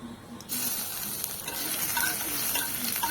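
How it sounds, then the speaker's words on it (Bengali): Cumin, dried red chili and chopped ginger crackle and sizzle in hot oil as a tempering for moong dal, starting quieter and jumping to a steady, close, dense frying hiss with occasional stirring clinks. "এখন হচ্ছে ফোড়ন দেবো, জিরে দিয়েছি, শুকনো লঙ্কা, আর হচ্ছে কুচি করা হচ্ছে আদা"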